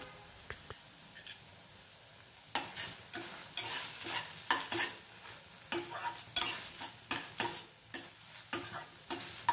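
Gobi manchurian (fried cauliflower) being stirred in a pan after a spoon of vinegar is added, with a steady run of close, rhythmic scraping and sizzling strokes that begin after a quiet start.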